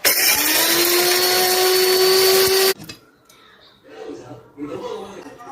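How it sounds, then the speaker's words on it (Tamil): A home mixer grinder whirs loudly and steadily while grinding homemade biryani masala, then cuts off abruptly partway through, followed by a voice talking in a kitchen. "இப்போ நம்ம வாங்கி வச்சிருக்கிற மிஷின்லேயே அரைச்சிக்கிறோம்"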